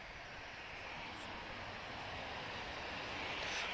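Broadband roar of an Embraer E190 jet with twin CF34 turbofan engines at Lisbon Airport, steady and gradually building in loudness across the clip, with a faint whine on top.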